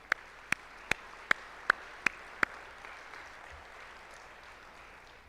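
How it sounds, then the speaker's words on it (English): A sparse round of clapping at a Williston State College women's basketball anniversary gathering: seven sharp, evenly spaced claps ring out clearly over a quiet room hum, then stop. "Let's give them a round of applause."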